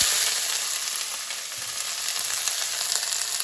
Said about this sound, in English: In the hot oil, I will add the blanched cauliflower, carrots and the beans.